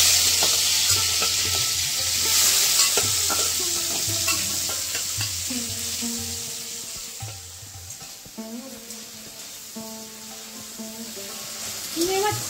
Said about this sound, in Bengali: চিংড়ি মাছগুলো আমি ভেজে নেব।